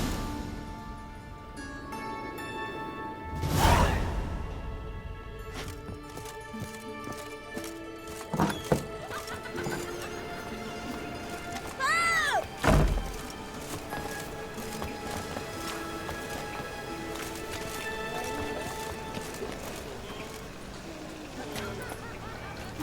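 In The Witcher 3, the horse Roach clip-clops along steadily with a whinny or two, over a busy game soundtrack with a few thuds and chimes.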